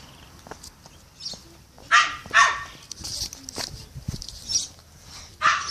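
Dogs barking at a house, a few sharp barks in scattered bursts, some close and loud, with people talking nearby.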